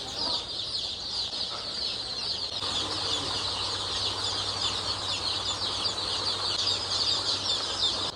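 Poultry chicks being unloaded from baskets at a chicken shed: a dense, continuous chorus of high chick cheeping with rustling and faint fluttering underneath, fairly close and steady throughout; no speech.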